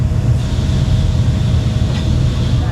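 Borneo Jungle Train on the Sabah railway in Malaysia, heard from inside a carriage as a steady, loud low rumble with faint rhythmic rattling and a thin mechanical whine throughout.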